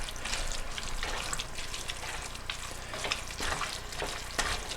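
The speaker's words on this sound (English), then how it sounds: "Now the meat's cooking down. See all the fat coming out of it." Meat frying in its own rendered fat, a steady close sizzle and crackle with scattered spatters and pops, continuous throughout without any voices.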